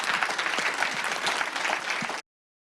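An audience applauds presenting groups at a school exhibition; a steady wash of many hands clapping, fairly close, continuing evenly until it cuts off abruptly.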